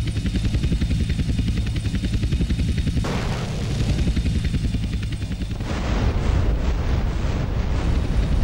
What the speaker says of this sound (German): Der Heli ist fast down.